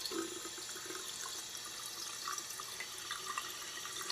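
Cold water runs from a sink tap in the video game Yesterday, a steady soft hiss and trickle that continues evenly throughout, quiet and alone.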